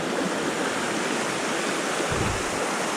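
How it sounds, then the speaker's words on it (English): Steady broadband rush of a low-running river in the Hutt Valley water catchment area, continuous and fairly loud with no other sounds. "It's actually quite a pretty river."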